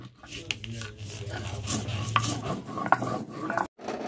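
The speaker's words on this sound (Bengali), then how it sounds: "দারচিনি ও এলাচটা শিলপাটায় মিহি করে গুঁড়ো করে নিচ্ছি" Cinnamon and cardamom being ground fine on a traditional Bengali grinding stone (shil-pata): steady, close rasping and scraping strokes with occasional sharper knocks, running continuously for about four seconds before a brief pause near the end.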